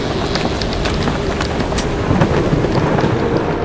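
A heavy thunderstorm at sea, with loud, dense rain and rumbling thunder forming a constant roar that fills the whole span. No voices are heard.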